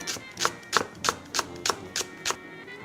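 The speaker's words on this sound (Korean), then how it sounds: "기호에 맞게 한 개 송송 썰어 준비해 주세요" A knife chops a green onion (daepa) into thin rounds on a cutting board, with about eight evenly spaced, crisp knife strikes in a steady rhythm. The sound is close and there is no talk.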